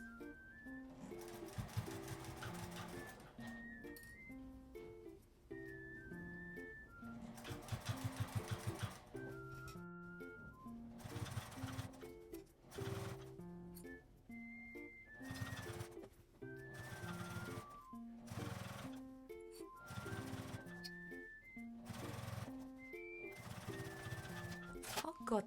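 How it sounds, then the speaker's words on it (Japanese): Sewing machine stitching the lining of a small tri-fold fabric wallet, its motor whirring steadily in bursts with brief pauses between seams, close and fairly loud, light background music throughout. "裏布を下に引っ張るような感じで押さえて縫っていきます。"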